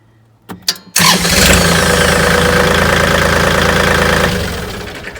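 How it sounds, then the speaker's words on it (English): A starter cranks in a couple of short bursts, then a heavy diesel tractor engine catches and settles into a loud, steady, knocking idle close by. "I'll start the tractor here, see if the tractor motor is not smoked."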